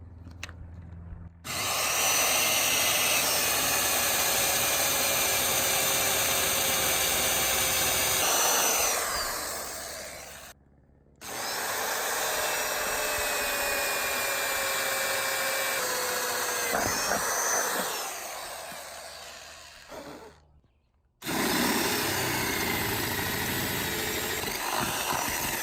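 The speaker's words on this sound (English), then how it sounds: "before I drill that, I'm going to do a pilot hole with an 1/8 inch drill bit." A power drill bores an 1/8 inch pilot hole into the bare metal roof of a 2018 Sprinter van, whining loudly in three long sustained runs separated by brief silent pauses, with no talking.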